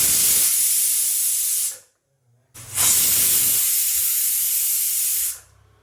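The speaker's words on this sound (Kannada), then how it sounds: "ಈಗ ಕುಕ್ಕರ್ ಕ್ಲೋಸ್ ಮಾಡಿ 2 ವಿಷಲ್ ಕೂಗಿಸ್ಕೋಬೇಕು" A pressure cooker on the stove, cooking South Indian saagu, vents two loud, sharp bursts of hissing steam. The first runs nearly two seconds and the second about three, separated by a short silence.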